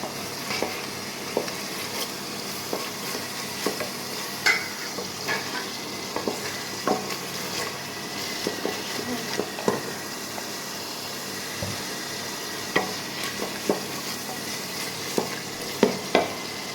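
Tomatoes frying with spices in a pan for a bottle gourd and egg curry, with a soft continuous sizzle broken by scattered sharp clicks and scrapes of a spatula, no voices.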